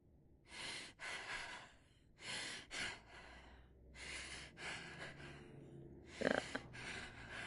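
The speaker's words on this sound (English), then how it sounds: "The breathing for everybody sounds suspicious." Breathing of characters in the video game Quarantine Zone: a run of breathy gasps, sighs and snorts in separate bursts, close and fairly loud, with no talk over them.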